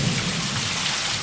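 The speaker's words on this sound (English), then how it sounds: "there's this raging thunderstorm going on" Heavy rain pours down hard during a raging backyard thunderstorm, a dense, loud, steady roar with deep thunder rumbling underneath.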